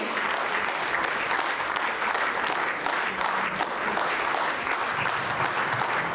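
An audience at a farewell ceremony in Ranchi claps continuously in a thick, even wave of applause that holds steady across the whole stretch.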